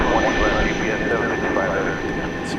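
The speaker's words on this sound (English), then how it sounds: "Qantas Flight 22 to Melbourne is lining up for takeoff now. That's a Dreamliner -9." A Qantas Boeing 787-9 Dreamliner lining up for takeoff at DFW Airport produces a continuous jet-engine roar with a steady high whine, while faint talk runs underneath.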